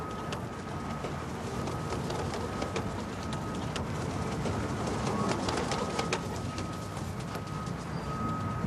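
Pigeons coo softly on a city rooftop under a steady wash of broadband noise like wind or rain, with no one speaking.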